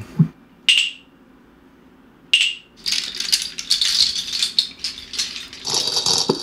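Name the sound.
hand percussion rattle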